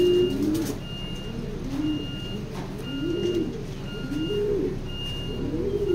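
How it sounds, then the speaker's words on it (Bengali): Racing pigeons coo repeatedly in a loose rhythm of soft, rolling calls close by, with a faint intermittent electronic beeping in the background. "এগুলো সব প্রবেন কবুতর, ভালো জিনিস।"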